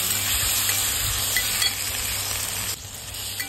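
Cut tomato frying in roasted masala paste for Vidarbha-style masale bhaat, a loud, steady close sizzle that runs unbroken throughout with slight dips in level.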